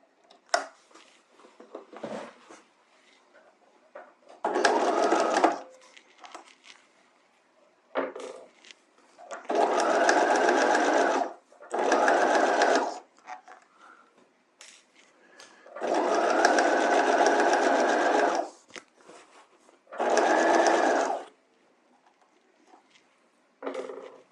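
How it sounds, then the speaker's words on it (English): A sewing machine stitches a bodice hem edge to edge in several bursts of fast, even whirring, separated by short pauses with faint handling of fabric, a start-stop rhythm close up. "we're at the machine. Let's go ahead and stitch this."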